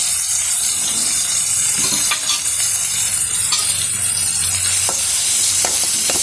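Masala being stirred into mutton frying in a pan for mutton suvarotti, a steady loud sizzle with scraping spoon strokes through it, close up and alone with no voices.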